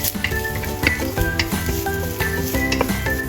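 Busy stir-frying of mushroom stems in a pan: steady sizzling with scraping stirs and light clinks of a utensil against the pan, close and continuous.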